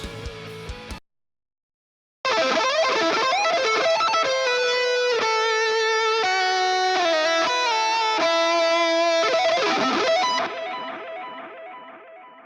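Heavily distorted electric guitar lead tone from a Mixwave amp plugin, with delay: a short burst, a brief silence, then about eight seconds of loud, sustained, singing melodic notes fading into a delay tail.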